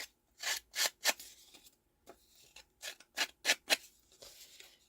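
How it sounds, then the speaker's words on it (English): Sharp craft scissors snipping stamped card stock for a one-sheet papercraft project, a close series of crisp, quiet cuts in two rhythmic bursts with a short pause between, no talking. "So I'm going to get my scissors and do a little bit of"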